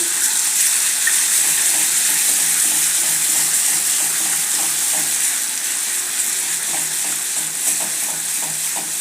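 Crushed green chilies, ginger and garlic fry in a pan with a steady, loud, dense sizzle that runs unbroken throughout, with faint scraping of stirring mixed in.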